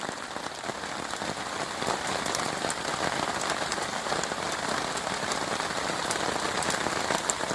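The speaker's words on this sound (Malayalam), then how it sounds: "രാവിലെ തന്നെ പുറത്തേക്കൊന്നും പോകത്തില്ലാത്ത പരുവത്തിന് നല്ല മഴ പെയ്തുകൊണ്ടിരിക്കുന്നു." Heavy rain pours down steadily, a dense hiss of drops drumming on surfaces with scattered sharper splashes, no one speaking.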